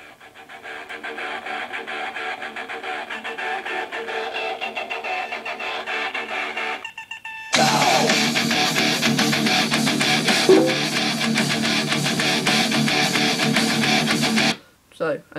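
Rock song played through really cheap small speakers, thin and tinny; a quieter passage, a brief gap, then a louder fuller section before cutting off near the end.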